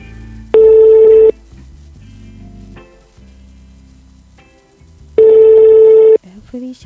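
Two long ringback tones of an outgoing telephone call to Nigeria, each about a second, steady and loud, with a quiet pause between them.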